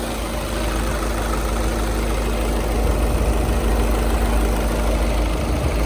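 A 2011 Volkswagen Touran 2.0 diesel engine idles steadily with a low, even rumble and constant mechanical hum, close up with no talking.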